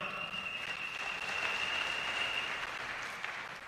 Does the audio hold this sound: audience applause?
yes